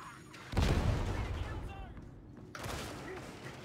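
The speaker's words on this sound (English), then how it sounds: "Frag grenade!" A frag grenade explodes in Warhammer 40,000 Darktide during an endless horde fight, a heavy, booming blast that swells and rumbles off, followed by a second sharp crack and ongoing battle noise, with voices speaking over it.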